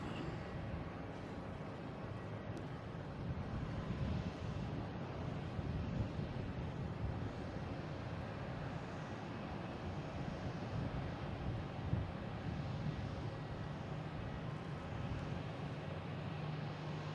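A Delta airliner inbound from New Orleans arriving at Boston Logan International Airport, heard as a steady, distant broadband jet roar mixed with wind noise, constant throughout without distinct peaks.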